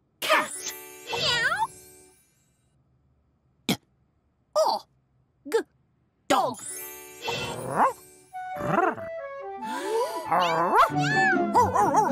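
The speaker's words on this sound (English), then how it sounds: "look at that, a dog and a cat." Animated cartoon cat from a children's spelling show, meowing in several loud, expressive bursts separated by silences, with musical tones and voices mixed in.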